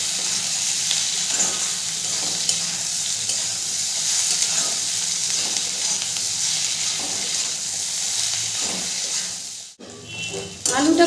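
Potatoes frying in a pan, a steady close sizzle with occasional stirring knocks, briefly cut off near the end before resuming.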